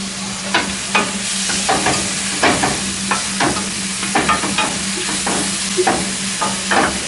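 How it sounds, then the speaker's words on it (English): White cremini mushrooms sauté in butter in a pan, a constant bright sizzle with repeated scraping and tapping from stirring, close and fairly loud. "what we're going to do is saute this for about 3 minutes"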